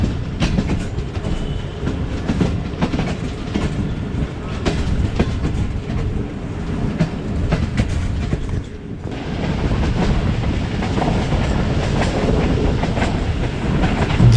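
The Fareed Express rolls along the rails with a steady, loud rumble and rhythmic wheel clatter heard from inside the train, the sound dipping briefly before resuming just as strongly.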